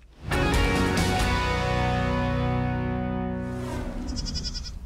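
A goat grazing invasive weeds on an air force base in Montana bleats one long, loud, wavering cry close by, followed by quieter background sounds.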